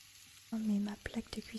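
Zucchini sizzles as it goes into a pan of chickpea curry: a sudden close hiss of frying, then scattered crackles and spoon stirs, with a soft voice faintly underneath.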